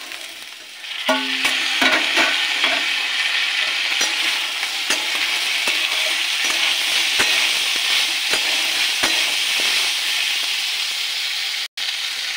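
Steady sizzling of vegetables, including peas and chopped tomato, frying in a hot pan, with repeated scraping clicks of a spatula stirring throughout; close and fairly loud, no talking.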